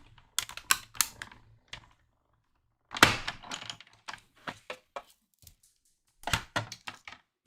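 A die-cutting machine cranks paper through in a few short bursts of clicking and rattling mechanical noise. The sound is close and fairly quiet, with brief silences between the bursts.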